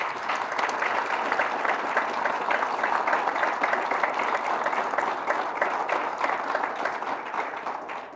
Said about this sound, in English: Please join me in giving one more round of applause to today's award recipients.